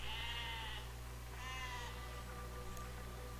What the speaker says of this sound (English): Sheep, get out of the way!